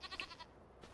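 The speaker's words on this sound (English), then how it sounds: "now that I have cute baby goats" Baby goats in Farming Simulator 25 giving a short, faint, quavering bleat, heard alone for under a second.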